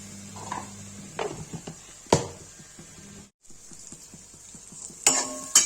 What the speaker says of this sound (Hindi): डालेंगे नमक इसमें, ये चला देंगे।